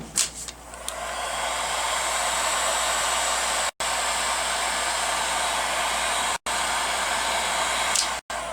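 A heat tool drying marker ink blows with a loud, steady, close whoosh, cutting off abruptly a few times and restarting at once, with no voices.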